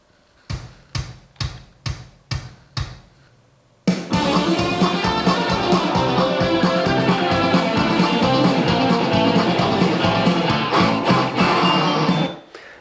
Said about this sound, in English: what you hear there is the 6 bass drum hits that I run on every single channel